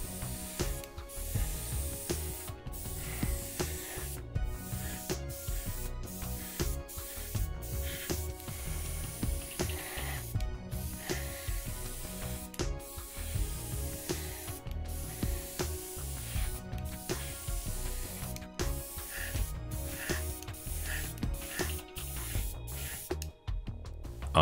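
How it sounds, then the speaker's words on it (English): High gloss varnish is sprayed from an airbrush onto the sides of three model locomotive parts, an EMD F7 demonstrator, giving a steady hiss broken by frequent short clicks and pauses as the trigger is worked, close up and alone. "I then apply the high gloss varnish on the sides of all of the three parts of the locomotive."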